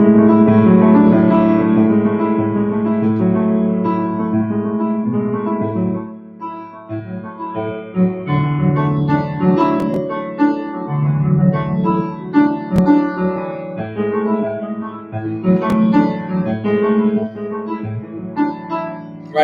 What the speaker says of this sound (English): this piece begins with a guitar lick that sort of sounds like this